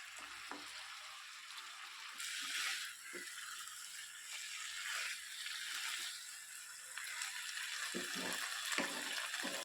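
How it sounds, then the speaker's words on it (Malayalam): Hot water added to chicken kondattam in a pan on a low flame, giving a faint, steady sizzling hiss broken by soft clicks and scrapes of stirring. "കുറച്ച് ചൂടുവെള്ളം ചേർത്ത് ഇളക്കാം"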